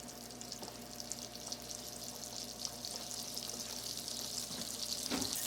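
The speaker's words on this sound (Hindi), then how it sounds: "बटर को मेल्ट होने दें।" Butter melts in hot oil in a pan, a soft, steady hiss and faint sizzle close by, with a couple of small clinks and a short louder crackle near the end.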